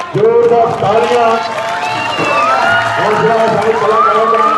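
Applause and cheering from a crowd at an outdoor Ramleela stage performance, sustained and fairly loud, with an amplified announcer's voice speaking over it throughout.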